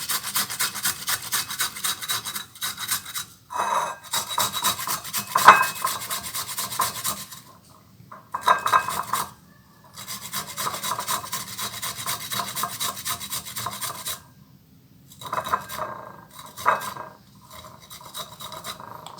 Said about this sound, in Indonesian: Kemudian ini langsung diparut ya teman-teman, agar lebih mudah dalam pengambilan ini ya teman-teman, sari-sari kunir ini.